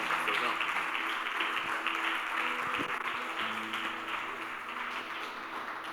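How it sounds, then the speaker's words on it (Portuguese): A church congregation applauds in steady broadband clapping for about six seconds, a continuous moderate wash of many hands with faint tonal keyboard or organ notes underneath. "Você pode aplaudir o Senhor mais uma vez?"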